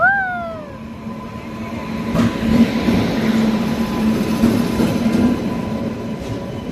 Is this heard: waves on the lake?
no